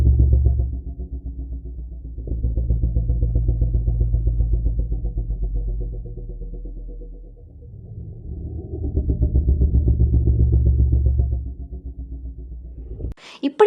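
Roar of the sea monster El Gran Maja, a deep, low rumbling growl swelling in two long waves before cutting off abruptly, with no other sounds.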